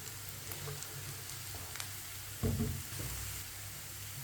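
Onions browning in a pan for chana daal, stirred with a spoon. A soft, steady sizzle runs throughout, broken by a few quiet scrapes and clacks of the spoon.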